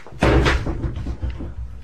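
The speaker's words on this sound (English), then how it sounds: "left the pub, slamming the door violently behind him." A pub door slams hard in an audio drama, one loud close thump followed by a short rattling decay.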